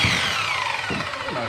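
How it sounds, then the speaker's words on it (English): A power saw whines loudly and close by during fiberglass floor work on a bass boat, its tone sliding downward as if winding down in one brief burst. "Nice saw."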